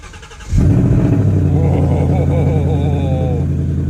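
Cold start of a Ford Mustang GT with a 5-litre engine and manual gearbox: after a quiet moment the engine catches abruptly and settles into a loud, steady, rumbling high idle, with someone speaking over it.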